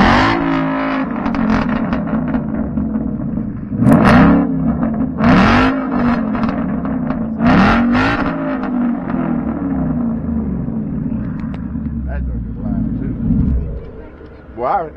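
A Ford with a Coyote V8 engine, stock headers and cats, and a straight-pipe exhaust with an H-pipe revs loudly in repeated bursts over a deep, rumbling idle, with crowd noise around it at a car show.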